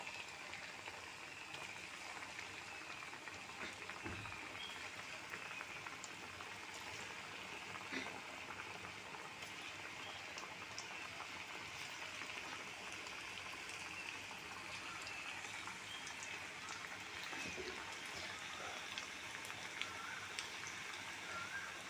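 Chicken pieces frying in oil, a steady broadband crackle and hiss that carries on evenly throughout, moderately quiet, with no talk over it.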